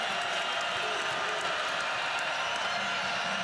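A basketball arena crowd at a Mississippi State versus South Carolina men's game gives a steady broad roar with scattered claps, loud and sustained for a few seconds.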